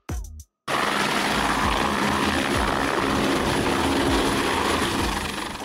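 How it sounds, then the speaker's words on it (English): Aerial survey helicopter flying, its rotor chop a steady, loud wash that runs on continuously after a brief opening burst and gap, with no talk over it. "Aerial Survey Helicopter,"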